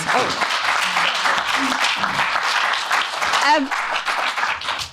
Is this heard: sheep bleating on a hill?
no